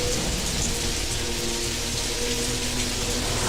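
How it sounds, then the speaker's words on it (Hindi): Rain falls outside in a steady, dense hiss of drops, loud and unbroken for the whole stretch, with no voices. "बाहर बारिश शुरू हो गई थी।"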